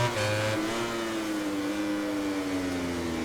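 A Yamaha MotoGP motorcycle engine in MotoGP 19 drones steadily and loud under a second high engine tone, both pitching slowly upward as the bike closes in on the Sachsenring circuit.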